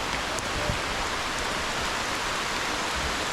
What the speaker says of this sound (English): I'll just let you enjoy the sound of the rain.